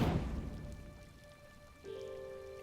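Rain falls steadily at dusk, a soft continuous patter that is loudest at the start and then settles, with a sustained musical tone rising near the end.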